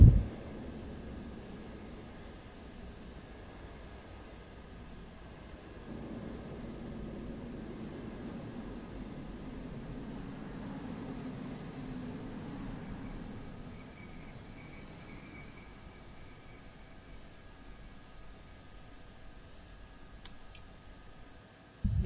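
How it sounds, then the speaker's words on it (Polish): A train pulls into a station in the MaSzyna train simulator game, a low steady rumble of rolling wagons with a long high wheel squeal running through the middle and no talk. "I pociąg wjeżdża."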